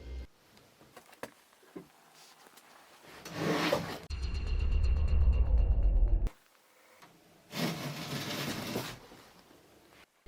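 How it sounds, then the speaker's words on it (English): Wooden wardrobe drawers slide open by themselves, with several scraping, rumbling bursts separated by quiet gaps and a loud low sustained rub in the middle, fairly close in a quiet room. "The wardrobe drawers later opened on their own, and the newspaper was propelled out of one of them."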